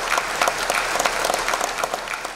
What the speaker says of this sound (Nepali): उहाँको लागि ताली।